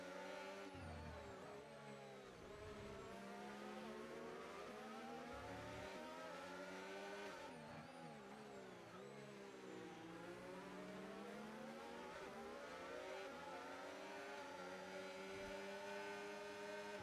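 Formula 1 cars in an F1 video game league race, including McLaren and Aston Martin machines, scream around the track with continuous high engine whine that rises and falls through gear changes and braking.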